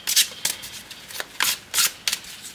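Tarot cards are shuffled in several quick, crisp riffling bursts, each a short papery flutter separated by brief pauses, close by and fairly quiet.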